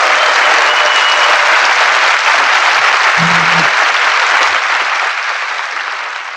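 Loud, dense applause greets a guest professor from Catholic Kwandong University at a Korean talk program about the Four Major Rivers project, a sustained crowd roar of clapping that gradually fades near the close.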